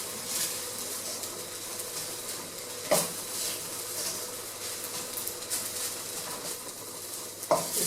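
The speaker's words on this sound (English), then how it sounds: "Stirring." Fried rice is stirred in a sizzling pan, a steady hiss with scraping spatula strokes and two sharp clanks against the pan.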